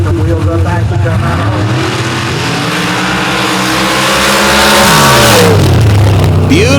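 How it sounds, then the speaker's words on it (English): Dirt drag racing cars with high horsepower launch side by side down a dirt track, loud engines revving and climbing in pitch up close, with a voice talking over the roar. "Some massive horsepower ready to go here as they come into stage."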